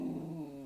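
A dog growling low and steady, a brief quiet rumble heard close indoors without talk.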